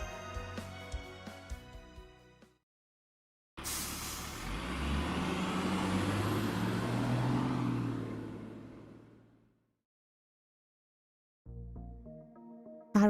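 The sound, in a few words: bus in traffic, Fate/Grand Order video game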